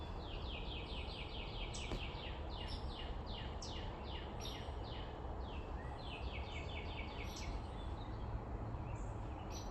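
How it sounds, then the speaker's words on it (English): Birds chirp and tweet outdoors in repeated bursts of short calls, moderately loud over a steady background hiss, with several birds overlapping and no voices. "can you hear the birds?"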